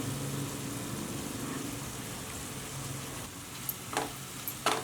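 Vegetables with soy sauce, tomato ketchup and vinegar sizzle softly over a low flame for street-style veg fried rice, a gentle steady hiss with a few faint clinks near the end.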